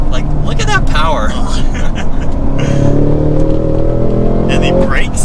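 A 2022 Cadillac CT5-V Blackwing manual super sedan pulls hard in third gear, its engine tone climbing in a loud steady drone inside the cabin while people talk over it.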